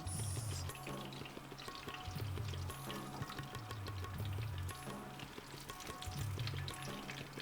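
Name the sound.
onions added to hot pan, sizzling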